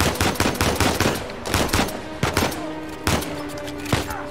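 Bursts of automatic gunfire from a firefight in Uncharted 4's jungle on hard difficulty, loud, close and rapid, broken into repeated volleys with short pauses between them.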